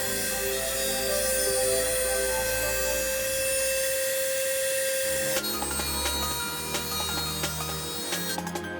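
A Dremel rotary tool grinds down a 1/4 inch steel extension, giving a loud, continuous high-pitched whine that holds steady, then shifts to a rougher, gritty grinding texture partway through.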